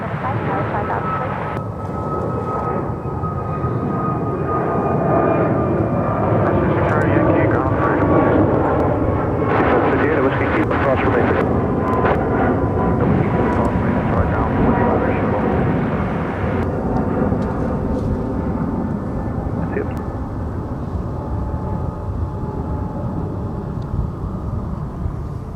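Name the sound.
American Airlines Airbus A321neo taking off at DFW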